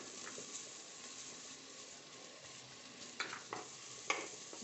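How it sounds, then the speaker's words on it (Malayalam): Onions, green peas and carrots sizzle steadily in a pan for a vegetable pulao, with a soft continuous fry broken by a few brief stirring scrapes near the end. "കുറച്ച് നേരം ഒന്ന് വഴറ്റി കൊടുക്കണം."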